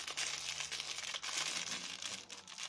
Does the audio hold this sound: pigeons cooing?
no